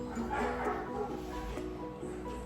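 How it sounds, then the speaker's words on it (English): Dogs bark and yip faintly in the background amid a low room hum, a few scattered yaps over a couple of seconds. "Excuse the dogs barking."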